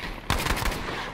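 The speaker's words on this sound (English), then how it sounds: "I shot a guy with anti-air." An anti-aircraft gun firing in a Battlefield video game, a loud sudden onset followed by a quick string of heavy repeated shots ringing out for most of a second.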